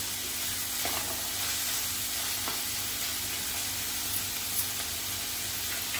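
Onion softening in masala in a pan for dry shrimp ambar, a faint, even sizzle with a few soft stirring taps, no voices.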